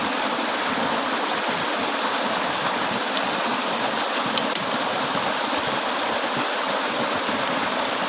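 A waterfall-fed stream pouring in a steady, loud broadband rush, close and unbroken throughout, with no voices.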